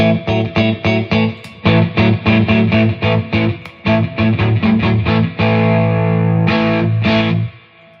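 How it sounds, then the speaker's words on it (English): Overdriven electric guitar through a Tube Screamer-style overdrive pedal, warm, crunchy distortion, playing choppy repeated chords and then letting a final chord ring out, loud and close. "It's basically supposedly a tube screamer."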